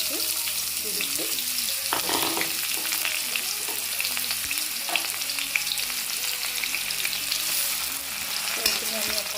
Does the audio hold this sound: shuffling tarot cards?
no